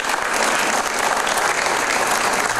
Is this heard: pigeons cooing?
no